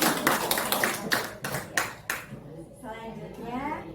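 A few sharp claps ring out in a seminar room during a dissemination session on positive culture, spaced irregularly over about two seconds, then fading into quieter room sound with some faint voices.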